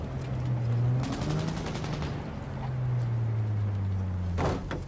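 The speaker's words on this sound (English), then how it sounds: "See, there's gunfire going on." Gunfire crackles in the Cyberpunk 2077 video game over a low droning engine-like hum. Short bursts of rapid shots come in a cluster near the start, and a sharp blast lands near the end.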